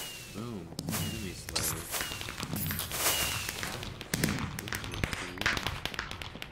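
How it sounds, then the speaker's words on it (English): Fireworks crackle and pop in Sky Factory 2, the Minecraft modpack, a rapid scatter of sharp bangs and whistling bursts, fairly close and continuous, with someone talking over them. "All those fireworks are going off inside there."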